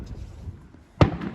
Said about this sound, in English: These are some mad big fireworks.